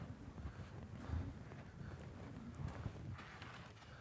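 A young horse's hooves shuffle and step on the ground during rope training. The footfalls are faint and muffled under steady wind noise on the microphone.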